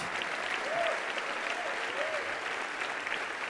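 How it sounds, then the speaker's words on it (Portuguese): Steady applause from an audience fills the whole stretch, dense and continuous, with a few brief tonal voice-like sounds rising above it. "Então vamos aplaudi-lo enquanto ele sai, irmãos, por favor. Vamos aplaudir forte."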